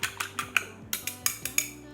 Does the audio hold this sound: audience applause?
no